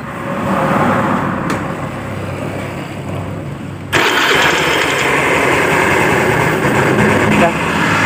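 A Honda Beat scooter engine starts up with an abrupt jump in loudness and settles into a steady, buzzing idle, running continuously and close by with a high, whiny, helicopter-like tone.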